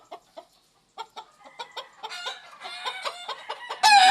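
Kelso and sweater gamefowl hens and roosters in a breeding yard, close sharp clucks in a broken rhythm giving way to overlapping cackling and a loud crow at the end.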